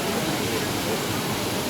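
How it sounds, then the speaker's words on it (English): Manthoka waterfall in the Sarfranga cold desert area, a dense, steady broadband rush of falling water heard from very close, loud and unbroken throughout. "That's the waterfall."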